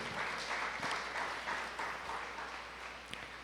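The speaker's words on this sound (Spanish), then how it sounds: "Dale ese fuerte aplauso a nuestro Rey." Steady applause from a congregation at a Spanish-language church service, dense and sustained for the full few seconds, then tapering slightly near the end with no voices over it.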